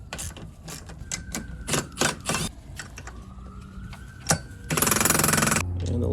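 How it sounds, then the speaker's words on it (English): A ratchet with a small extension turns 13mm nuts on a 2007 Mercedes E550 W211 air strut, giving quick bursts of clicking, a few sharp metallic knocks, then a longer rapid ratcheting run close up. "I got a 13 and a ratchet with a little extension"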